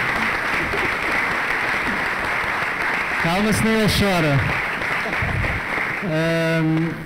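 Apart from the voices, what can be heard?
applause for João Mourinho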